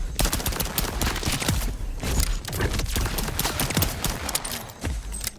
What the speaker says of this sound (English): And here's how the weapon fires,